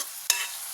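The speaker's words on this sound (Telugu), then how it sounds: "ఇప్పుడు సన్నగా కట్ చేసి పెట్టుకున్న ఆనియన్, కరివేపాకు, ఆనియన్ కొద్ది కలర్ మారేదాకా ఫ్రై చేసుకుందామండి" Thinly sliced onions and curry leaves fry in a pan for a cauliflower fry, giving a steady close hiss with a quick scrape of stirring partway through.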